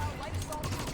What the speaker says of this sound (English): It's a great little pistol if you just want to grab something and shoot.